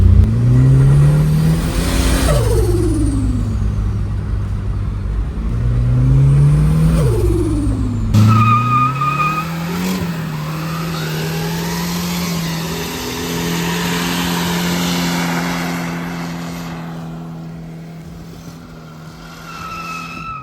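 Turbocharged Ford Sigma engine in a car revving hard, rising and falling twice with a loud climbing pitch, then settling into a steady, loud drone with turbo whistle for the rest of the time.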